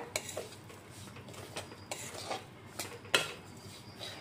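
Semolina stirred in ghee in a pan while making sooji poori, giving repeated close scrapes and clinks of a spoon against metal over a faint, steady background.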